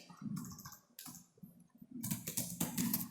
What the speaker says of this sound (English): So I'll be typing here